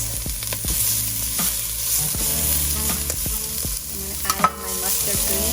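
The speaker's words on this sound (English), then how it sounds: "let's start frying up our pork" Pork and aromatics fry in a hot cast iron pan with a loud, close, steady sizzle, punctuated by repeated scraping stirs and a couple of sharper knocks near the end.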